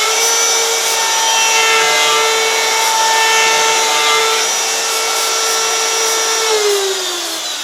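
A DeWalt DWP611 router cutting walnut gives a loud, sustained high-pitched whine with a steady grinding cut, holding constant before the pitch drops slightly near the end as it winds down.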